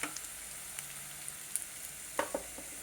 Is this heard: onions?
yes